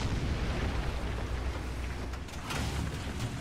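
Tank battle gunfire and explosions in the War Thunder video game, a continuous low rumbling roar of blasts and booms that stays steady and muffled throughout with no voices.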